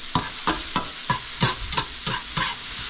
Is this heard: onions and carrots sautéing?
yes